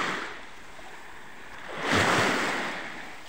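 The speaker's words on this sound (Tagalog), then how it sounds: "Yan ang beach, oh. Ganda. Ganda ng dagat." Ocean waves on a beach, a soft steady wash that swells into one louder breaking surge near the middle before easing back, with light wind noise.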